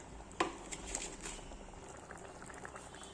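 A pot of chickpea curry (chhole) bubbles gently at a low simmer, soft and steady, with one brief clink near the start.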